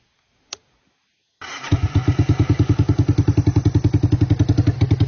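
A three-wheeler engine with no muffler fires up after a single click and runs at a loud, rapid, evenly pulsing idle, each exhaust beat sharply distinct up close, with no talking.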